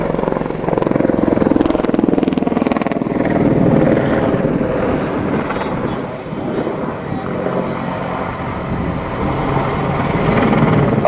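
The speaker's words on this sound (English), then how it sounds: "The bunt sees the aircraft pitch from 90 degrees nose up to 90 degrees nose down at the highest point of the manoeuvre." Army Air Corps Apache attack helicopter flying a bunt at an air show display at Cosford, its loud, steady rotor roar and turbine whine filling the air while a commentator talks over it.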